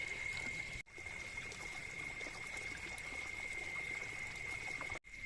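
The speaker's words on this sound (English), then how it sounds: "I'm just going to quick fill the pond a little more." Water running steadily into a garden pond, a continuous trickling, splashing flow that stays even throughout with a faint steady tone above it.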